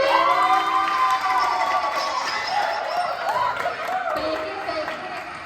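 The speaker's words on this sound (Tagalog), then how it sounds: "Sigawan at hiyawan para kay Justin!" A crowd at a baby dedication party cheers and shouts for a contestant named Justin. Loud, overlapping whoops and high yells, some from children, rise and fall through the whole stretch.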